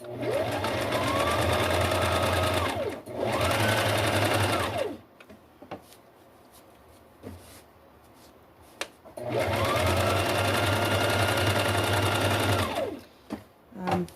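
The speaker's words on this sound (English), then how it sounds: "This machine is a Brother LX 3850" A Brother LX 3850 home sewing machine stitches layers of a two-tone collar in two long whirring runs, each rising to a steady hum and winding down, separated by a quieter gap with small handling clicks.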